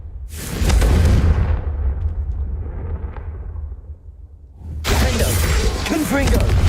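Candelabras shattering under a Confringo spell in Hogwarts Legacy: a loud crashing burst that tails off, then a second sharp break about two-thirds through, followed by a dense clatter of breaking pieces.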